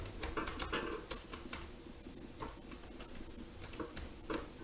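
Rapid, uneven clicking of computer keys typing text, close and fairly quiet, with short bursts and brief pauses and no speech.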